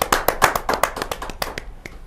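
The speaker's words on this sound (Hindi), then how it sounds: "एक जोरदार तालियों से स्वागत करते हैं" A small audience at a Hindi poetry gathering (kavi sammelan) claps in a short burst, with distinct separate hand claps in an uneven rhythm that thin out toward the end, moderately close.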